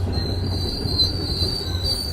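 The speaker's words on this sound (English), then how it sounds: "Michael Fisher talking over the train noise" A train rolls past close by, a steady loud rumble with a sustained high wheel squeal running through the whole stretch.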